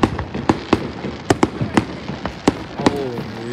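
Fourth of July fireworks bursting in a rapid series of sharp, loud bangs and crackles, some close together, with a faint voice briefly underneath.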